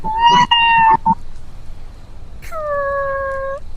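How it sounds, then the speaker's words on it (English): A cat meows twice up close, a short choppy call followed by a longer drawn-out meow after a brief pause. "It's a little kitty!"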